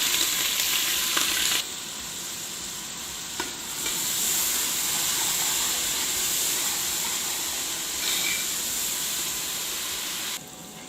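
Chopped onion, curry leaves and cumin seeds fry in hot oil with a strong, steady hissing sizzle. It runs close and unbroken, shifting in level as ingredients are added and stirred.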